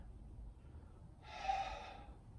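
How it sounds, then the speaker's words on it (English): A single soft breath pushed out through the mouth while squatting down during a conditioning exercise, quiet and close over a faint room hum, with no talk. "I'm going to breathe out as I go down"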